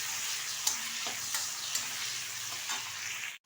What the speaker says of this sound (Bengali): চিংড়ি মাছটা হালকা করে ভেজে তুলে নেব একটা পাত্রে।